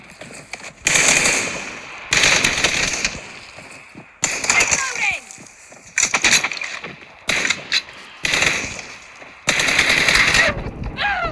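Automatic M4 rifle fire in the mobile shooter PUBG Mobile rings out in repeated loud bursts of rapid shots separated by short pauses, with players talking over the action.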